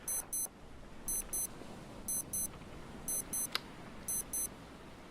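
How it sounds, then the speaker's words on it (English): Electronic beeping in a raft survival video game: crisp high double beeps repeat in an even rhythm about once a second over a soft ambient background, with one brief sharp click midway. "Why is this thing beeping?"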